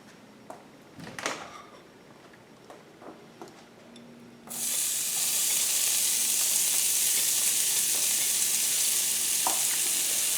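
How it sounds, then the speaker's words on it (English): Onions, mushrooms and garlic hit hot butter in a pan for chicken marsala: a few soft clinks and taps, then a sudden loud, steady sizzle that holds close to the end. "We added some new butter, and now we are going to add in the onions,"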